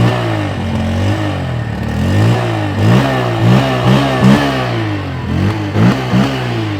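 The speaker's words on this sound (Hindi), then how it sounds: "आइडियल कंडीशन पर इंजन साउंड सुनो। Under valley exhaust sound. Throttle देता हूँ अब मैं।" A Bajaj Pulsar N160 motorcycle with an underbelly exhaust revs hard as the throttle is blipped repeatedly, its mid-pitched engine note surging up and dropping back in a rhythmic series of close, loud bursts.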